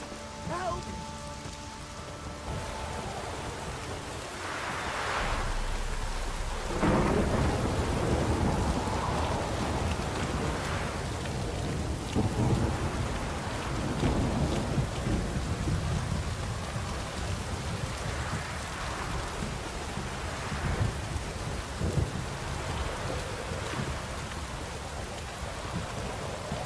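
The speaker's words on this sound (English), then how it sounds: "This downpour's a bastard, it is." Heavy downpour with rolling thunder in the rainy open world of The Witcher 3: Wild Hunt, a steady dense hiss of rain drumming on surfaces throughout, with deep rumbles swelling in after the opening seconds.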